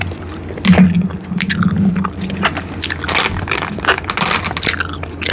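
Gum is chewed close to the microphone for ASMR, with wet smacking, squishing and crackling bites in an irregular rhythm, loud and intimate with no talking.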